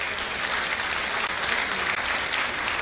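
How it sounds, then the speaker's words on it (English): Steady audience applause at the National Theatre for a vice chancellor who has just spoken, even and continuous, with no talk. "Ladies and gentlemen, another round of applause"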